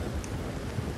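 Steady rain hisses across the open countryside in Red Dead Redemption 2, a soft, even wash with no voices over it.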